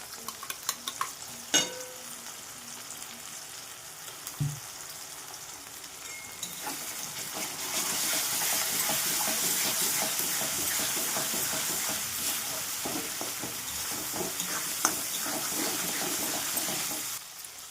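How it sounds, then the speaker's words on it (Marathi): Steady sizzling of peanuts and green chili paste frying in hot oil, with stirring scrapes and a few clinks; the hiss grows louder and fuller midway and continues without talk. "शेंगदाणे, हिरवी मिरचीची पेस्ट मस्तपैकी फ्राय करणार तेलात."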